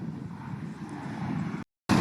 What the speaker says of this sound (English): There's a helicopter coming in for landing on top of one of the hospital buildings.